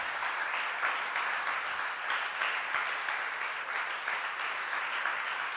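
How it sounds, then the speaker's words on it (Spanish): A church congregation applauds steadily for several seconds, a dense wash of clapping heard from a moderate distance with no talking over it. "Dele un aplauso al Señor."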